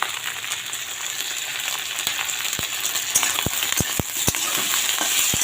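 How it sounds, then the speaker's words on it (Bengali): Okra (bhindi) frying in a pan with salt and turmeric, a steady close sizzle with a run of sharp clicks and taps from stirring toward the end. "দিয়ে এটা একটু ভেজে নেব"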